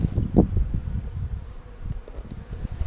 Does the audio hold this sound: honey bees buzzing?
yes